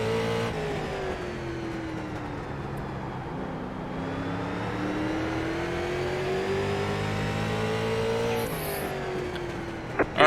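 Street stock race car engines in the iRacing game at the Atlanta Motor Speedway Legends oval drone steadily, their pitch sliding up and down through laps, with no talk over them.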